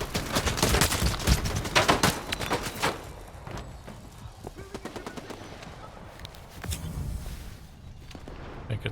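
Machine-gun fire in a video game, loud rapid bursts rattling out over the first few seconds, then sparser, fainter shots continuing in the background.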